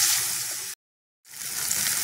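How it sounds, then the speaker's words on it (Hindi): Paneer cubes fry lightly in a pan with turmeric and salt, giving a steady broadband sizzle that cuts out briefly mid-clip and then resumes at the same level, close and without talk. "यहाँ पे पनीर हल्का सा फ्राई हो चुका है"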